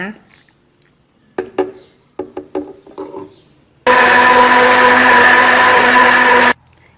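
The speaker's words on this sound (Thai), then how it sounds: "เตรียมเครื่องปั่นมานะคะ หลังจากได้เครื่องปั่นมาแล้วใส่แอปเปิลลงไปค่ะ" A few wooden knocks and clatters with brief speech, then a loud blender roars steadily for a couple of seconds, blending apples, before cutting off.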